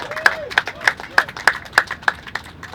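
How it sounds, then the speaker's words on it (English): Applause at a community talk on shelter survey findings: a few evenly spaced, sharp claps in a steady rhythm, roughly three per second, with faint voices in between. "can we give it applause for everyone who's spoken so far"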